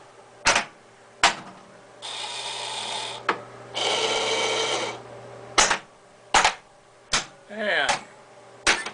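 Solenoid coils on a Williams Star Trek: The Next Generation pinball machine firing during a coil test: sharp, loud, close snaps spaced about a second apart, with two longer buzzing pulses between them and a faint steady hum underneath.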